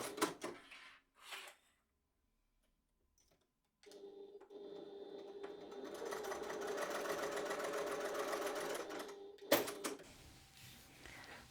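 A sewing machine top-stitches a folded fabric edge on a bottle sling, starting after a few quiet handling clicks and running as a steady, fairly quiet whirring stitch for several seconds before stopping with a sharp clack.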